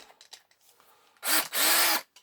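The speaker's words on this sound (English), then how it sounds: "So I get my 4mm drill bit" A power drill with a 4mm bit whirs loudly in two bursts, a short spin then a longer steady run, after some quiet handling noises, drilling a Matchbox Rolls Royce Silver Shadow die-cast model car.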